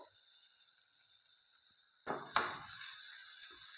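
Finely chopped tomato and capsicum roasting in a pan, a faint hiss that turns into louder sizzling with a short scrape partway through, close and without voices.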